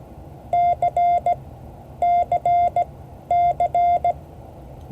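Morse letter C keyed on a paddle as clean, loud sidetone beeps, dah-dit-dah-dit repeated three times in steady rhythm over a faint background hum.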